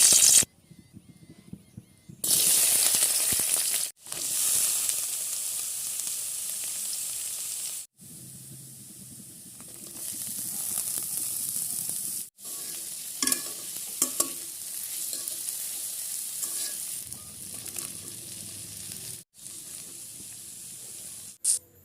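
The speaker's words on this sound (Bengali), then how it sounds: "আজকে কলমির শাকগুলো আলু দিয়ে রান্না করব।" Water spinach (kolmi shak) frying with potatoes, onion, garlic and dried chilli makes a loud hissing sizzle, with stirring and scraping. It comes in separate bursts broken by abrupt cuts and short quiet gaps.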